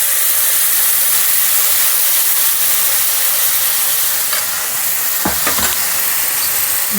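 Farali uttapam batter hitting a hot oiled pan with sesame seeds, a loud continuous sizzle and hiss with a few scraping spatula sounds toward the end, no voices.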